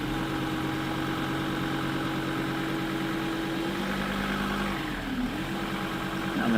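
A 4x4 engine runs in low range on wet beach sand, a steady close rumble that dips briefly and then climbs as the revs rise near the end.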